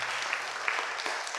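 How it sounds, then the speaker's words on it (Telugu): A congregation in church claps together, a dense, continuous patter of many hands filling the brief moment. "గట్టిగా చప్పట్లు కొట్టండి"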